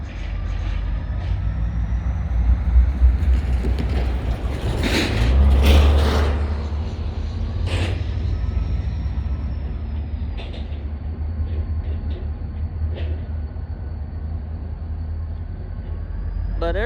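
A GP40-2 diesel locomotive of the DeQueen and Eastern railroad at Valiant, Oklahoma, backing onto a train: a steady, low idling rumble that swells briefly with a louder mechanical burst, then settles back to a drone.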